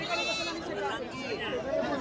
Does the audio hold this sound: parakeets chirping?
no